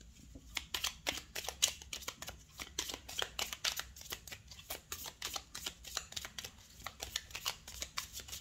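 Tarot cards being shuffled and drawn, a rapid close series of crisp riffling slaps and flicks in uneven bursts, fairly quiet and with no speech.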